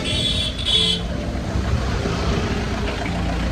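Busy street traffic near Tirupati, with a steady roar of passing cars and engines and a brief horn-like toot early on, loud and continuous without talk.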